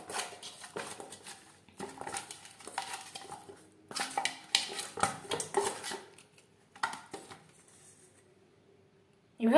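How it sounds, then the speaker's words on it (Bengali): Catla fish head being rubbed with salt and turmeric powder in a bowl, giving intermittent bursts of soft clattering, scraping and squelching handling noises with brief pauses, close by and fairly quiet, ending in a sharper knock. "লবণ হলুদ দিয়ে মাছের মাথা বেশ ভালো করে মেখে নেব।"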